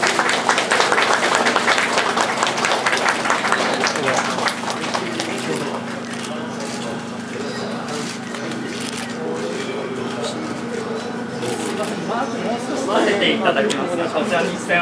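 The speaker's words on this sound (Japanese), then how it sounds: "皆様盛大な拍手をお願いいたします" A crowd on a station platform at the JR Keiyo Line 30th anniversary ceremony claps loudly and continuously, the applause dipping in the middle and swelling again near the end while people talk nearby.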